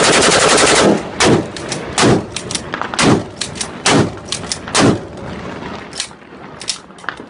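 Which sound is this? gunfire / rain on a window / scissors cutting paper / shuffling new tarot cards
gunfire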